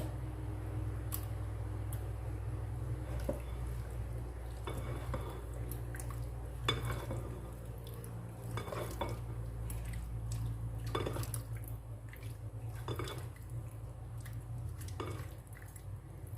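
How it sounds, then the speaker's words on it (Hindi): A spoon mixes chicken kebab marinade with black pepper in a bowl, making faint, scattered clinks and scrapes over a steady low hum. "इसको अच्छे से मिक्स कर लेंगे। इसमें चिकन ऐड कर देंगे।"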